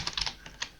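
A computer keyboard clicks in a quick, soft burst of several keystrokes, followed by two isolated taps, close and fairly quiet with no voice.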